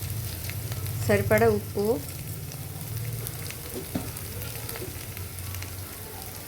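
A fish curry base fries in a pan as turmeric goes in, giving a steady close sizzle with brief stirring, while a person speaks over it.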